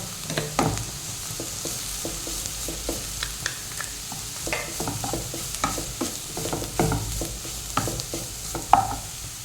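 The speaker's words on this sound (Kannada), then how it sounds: "ಈಗ ಬೀಟ್ರೂಟ್ ಹಾಕ್ತಿದ್ದೇನೆ ಸ್ವಲ್ಪ ಫ್ರೈ ಮಾಡ್ಕೊಳ್ಳುವ" Beetroot frying in a pan hisses steadily while a spoon scrapes and taps against the metal in irregular strokes, close by and with no talking.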